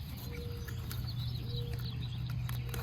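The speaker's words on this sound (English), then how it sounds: "I can hear all the birds" Birds call and chirp in the open while a dove coos low and repeatedly beneath them, fairly faint and steady.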